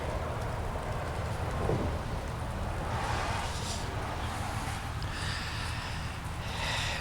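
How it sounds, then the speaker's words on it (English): Steady rain falls outside, a continuous broad hiss of drops on surfaces, moderately loud and unbroken with no voices. "It's still raining."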